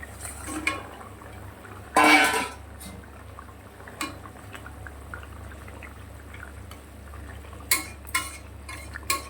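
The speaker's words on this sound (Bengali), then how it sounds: "এবারে মাছগুলোকে দিয়ে দেবো।" Rupchand (pomfret) fish dropped into a cooking pot gives one loud, brief splashing burst near the start. Scattered light clinks of utensils and pot follow against a quiet kitchen background.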